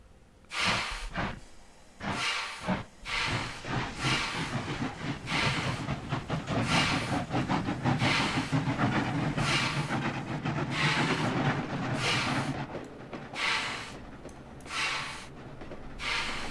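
A train in the Trainz railway simulator pulls away in reverse, with loud rhythmic hissing chuffs and steam-like bursts over a steady low mechanical rumble that holds throughout.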